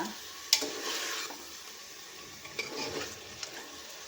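A spoon stirs a salted rice mixture in a pot for white kushka rice, with a sharp scrape at the start, then soft wet swishing and a few clinks, faint and close, with no talk.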